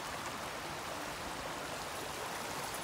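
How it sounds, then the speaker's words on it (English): A large waterfall swollen by heavy recent rain rushes in a constant, dense hiss, an even roar with no pauses and no voices. "And there is a huge waterfall."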